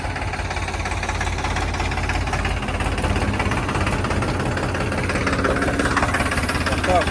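A tractor engine idles with a steady low knocking throb throughout, while people talk nearby.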